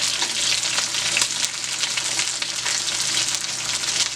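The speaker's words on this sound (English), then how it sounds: "now I'm getting ready to flip the shrimp" Shrimp sizzling in a hot pan while being flipped for shrimp vegetable rice: a steady, loud frying hiss with faint clicks from turning, no voices.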